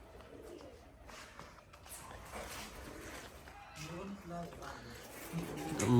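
Soft coos from Rajshahi Giribaz pigeons sound faintly beneath people talking nearby, with a low murmuring background throughout.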